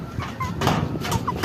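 Young white Aseel chickens, in poor shape after rain, give soft, close clucks and chirps in a brief flurry over a low background rumble.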